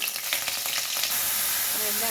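Spice seeds, ginger-garlic paste and dried red chillies sizzle in hot oil in a pan, a steady close hiss with faint crackles and a brief stirring scrape before the frying settles into an even sizzle.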